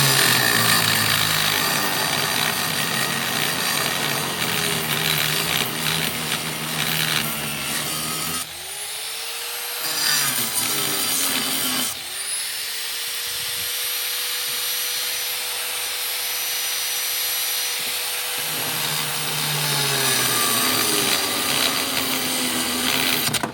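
An electric grinder works brass off a piece of metal held in a vise: a loud, continuous whine that dips and rises in pitch as the motor loads and spins back up, with gritty grinding throughout.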